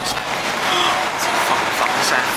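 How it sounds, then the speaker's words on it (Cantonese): Wind blows hard outdoors at Phillip Island near Melbourne on a cold, rainy day, making a loud, steady broadband rush with gusty swells throughout. "睇下啲風聲"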